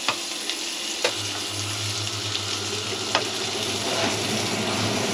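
Onion frying in butter and a little oil in a pan, a steady close sizzle with a few sharp clicks of a utensil, no talking over it.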